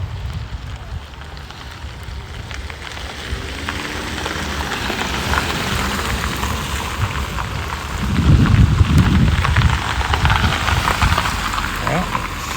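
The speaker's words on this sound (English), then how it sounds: "Hail and rain." Rain and hail patter steadily on surfaces outdoors at a dispensary in Cold Lake North, a dense continuous hiss with a low rumble swelling midway, and a voice speaks briefly underneath.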